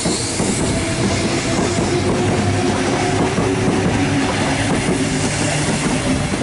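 Sydney Trains set T47 pulls out of platform 3 at Thornleigh on a Hornsby service, a loud continuous rumble of wheels and carriages rolling close by, with a faint rhythmic clatter over the rails.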